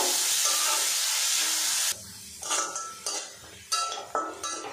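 Washed, drained mung dal hitting hot oil with a loud hissing rush, then the sizzle dies down and metal spoon strokes clack against the pan in uneven bursts.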